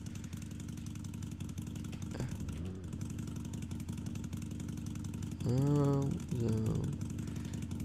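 A Harley Davidson motorcycle engine idles steadily in the video game Driving Empire, then briefly revs with rising and falling pitch before settling back. A voice speaks briefly over it.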